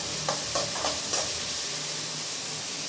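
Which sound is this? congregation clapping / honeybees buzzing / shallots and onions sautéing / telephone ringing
shallots and onions sautéing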